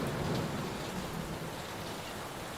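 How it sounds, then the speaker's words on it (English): Steady heavy rain pours during a thunderstorm in the horror video game Layers of Fear, a dense, close wash of drops with low thunder rumbling underneath, no voices. "Will this storm ever run out of rain?"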